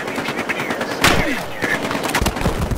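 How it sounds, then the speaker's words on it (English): Gunfire in the Battlefield Hardline video game, loud bursts of automatic weapon fire and sharp shots in a downtown bank-job firefight, with repeated impacts, under a player's tense talk. "The fuck is shooting me?"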